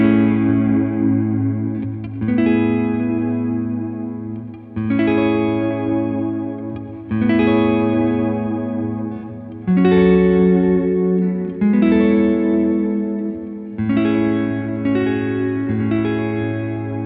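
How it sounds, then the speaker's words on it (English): Electric guitar played through reverb and delay effects, sustained chords struck roughly every two to three seconds, each ringing out in a wash of echo and decaying tails, with no talking. "lose myself in a world of reverb and delay"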